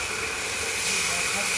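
A tomato, ginger and chili paste in a hot pan sizzles loudly as water is poured in, producing a steady broad hiss that swells slightly toward the end, heard close up with no talking.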